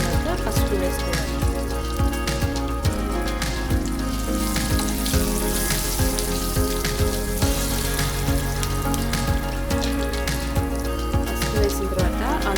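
Green chillies frying in hot oil in a pan while a potato and sesame seed fry is being made, with a loud, dense, continuous sizzle full of rapid crackles and spatters throughout.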